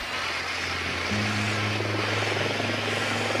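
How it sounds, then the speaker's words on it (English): A drone deploying in a video game gives a rotor-like engine hum over game ambience; partway through, the whirring steps up into a louder, steadier drone and holds there. "Deploying drone."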